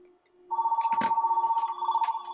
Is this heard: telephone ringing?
yes